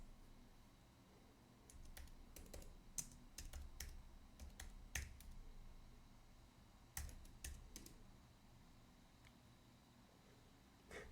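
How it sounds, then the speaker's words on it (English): Sparse, irregular key clicks come from a computer keyboard tapped with two fingers, faint and close in a quiet room, with pauses between short bursts of presses. "I can hear the 2 fingers typing."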